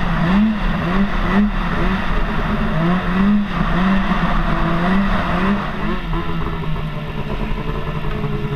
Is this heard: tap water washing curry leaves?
no